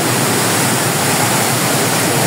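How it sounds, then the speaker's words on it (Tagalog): Aliw Falls in Luisiana, Laguna, pours during rain as a loud, dense, unbroken roar of rushing water close by. "Ito ang Aliw Falls. Kung hindi lang umulan, maganda dito."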